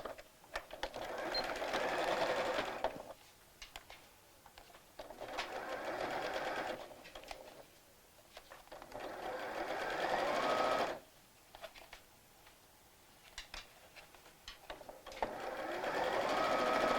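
A sewing machine stitches a cotton hem on a Barbie dress, running in steady bursts of a few seconds each, separated by short pauses, close and clear with no talking.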